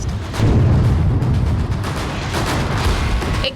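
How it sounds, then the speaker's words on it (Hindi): Controlled demolition blast levelling a militant's house in Pulwama district, Jammu and Kashmir: a loud, sustained rumbling roar of explosion and debris that fills the whole stretch with no voices. "देखिए 5, 4, 3, 2, 1 और जोरदार ब्लास्ट"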